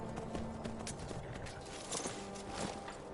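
A horse in the Skyrim video game clops along, its hooves giving a steady run of soft thuds over a dense, continuous game background.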